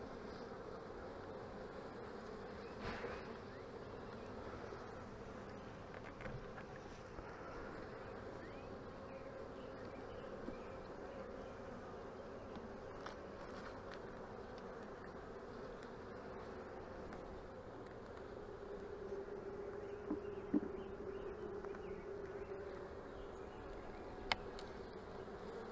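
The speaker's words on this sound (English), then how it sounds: "The bees are a little bit agitated." Agitated honeybees swarm around an open hive during a queen cell check, a dense steady buzz close by with occasional faint taps from the hive tool.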